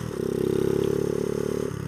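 A Honda Z50 small motorcycle engine runs close up with a steady buzzing drone, pitch holding level and then dropping slightly near the end.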